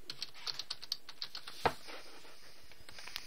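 Computer keyboard typing in a quiet room, a run of light, evenly spaced key clicks followed by one louder keystroke and a few scattered taps, with no talking.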